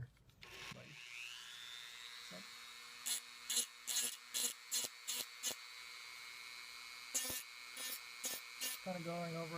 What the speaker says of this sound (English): Kind of going over it just like the sandpaper.